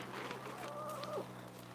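Chickens cluck softly nearby, a few short warbling calls rising over a quiet background with a steady low hum, fairly faint overall.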